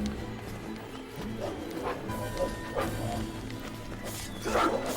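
In Drakengard 3, hostile dogs bark repeatedly during combat, as short irregular yaps scattered over about five seconds against constant game effects and background music.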